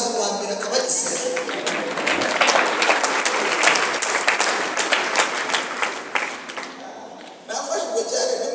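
A church congregation claps in a sustained round of applause with uneven, dense hand claps. It tapers briefly near the end before picking up again, and a voice talks over part of it.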